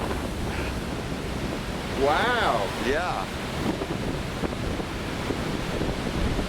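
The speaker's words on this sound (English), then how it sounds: "That was a big roller." Large storm waves at Cape Disappointment roar and crash in a broad, continuous wash under strong wind buffeting the microphone, with people exclaiming briefly over the surf.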